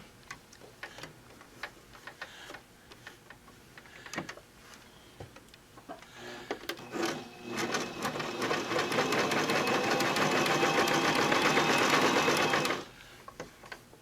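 A heavy sewing machine, just cleaned and oiled, clicks and ticks through a few seconds of handling, then runs in a loud, steady burst of regular stitching before stopping abruptly.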